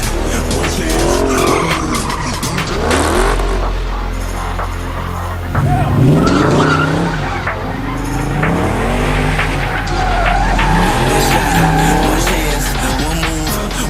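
A Dodge Charger 6.1 SRT8 drifting, its tires squealing and skidding in long wavering screeches over a roaring engine, loud and close throughout, with music and a voice running underneath.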